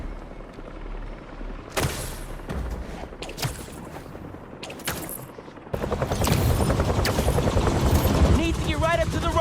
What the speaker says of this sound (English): Something like... a helicopter's blades.